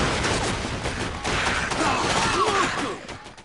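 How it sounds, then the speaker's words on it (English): Dense, chaotic gunfire rattles continuously in a PlayStation-era horror video game, a loud sustained barrage of rapid shots and impacts mixed with crashing effects and faint voice-like sounds throughout. "As a tremendous hail of gunfire flies and more evil people emerge from the shadows"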